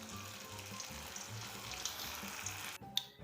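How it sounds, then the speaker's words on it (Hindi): The last few remaining balls frying in hot oil in a pan give off a soft, steady sizzle that carries on evenly, with a faint utensil clink near the end. "अब जो थोड़े से और बचे हैं उनको भी मैं फ्राई कर लेता हूँ।"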